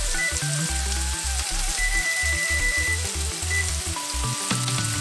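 Stuffed chicken breast sears in a hot skillet, giving a steady, loud broadband sizzle and crackle throughout with a few faint tonal background hums and no talking.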